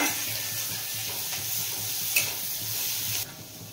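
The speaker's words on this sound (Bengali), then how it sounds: "1 চামচ গার্লিক নিয়েছিলাম, থেতো করে রেখেছিলাম, সেটা দিয়ে আমি ভালো করে ভেজে নেব।" Crushed garlic frying in a pan for butter garlic chicken, a continuous close sizzle with light stirring and a brief utensil clink partway through, no voices.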